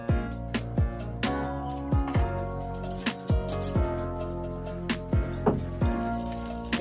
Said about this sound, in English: Mix it out so it dissolves.